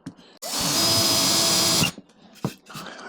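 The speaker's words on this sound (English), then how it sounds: "Let's see how easily it cuts through this wood. I'll just put it back on drill." A power drill whines loudly for about a second and a half as it bores through wood, then stops, followed by a few light knocks.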